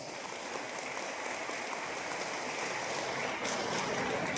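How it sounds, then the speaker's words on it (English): Graduates at a graduate studies recognition and hooding ceremony applaud, a dense, steady wash of many hands that holds at an even level throughout, with no voices standing out. "Will you give yourselves a big round of applause?"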